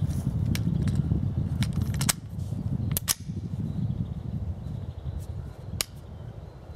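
Rifle shots fired outdoors through an Ares Armor Effin-A MKII muzzle compensator, several sharp loud cracks spaced a second or two apart over a steady background rumble.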